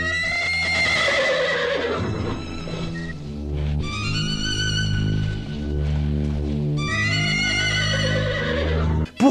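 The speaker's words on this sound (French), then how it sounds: "Pourquoi il y a un cheval?" A horse in a film scene gives long, loud neighs that rise and fall in pitch, repeated over several seconds against a low rumbling background. No one speaks.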